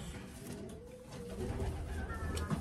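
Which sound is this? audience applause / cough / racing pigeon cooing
racing pigeon cooing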